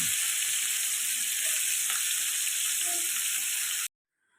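Fish pieces frying in oil over low flame, an even, hissing sizzle close by that stops abruptly near the end.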